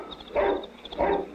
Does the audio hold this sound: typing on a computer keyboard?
no